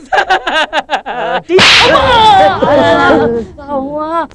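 A single sharp slap across the face cracks out in a Tamil comedy film scene, sudden and loud, between stretches of excited speech from the actors.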